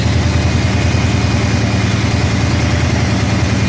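A 1966 Ford truck engine idles steadily and loudly up close, a continuous low rumble with an even throb and no voices.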